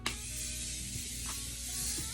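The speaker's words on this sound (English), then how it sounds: "I'm going in with the Morphe Continuous Prep and Set Mist, and I'm going to spray my whole face" A Morphe Continuous Prep and Set Mist is sprayed over the face, a soft faint hissing mist heard close up over low background noise, with no talking.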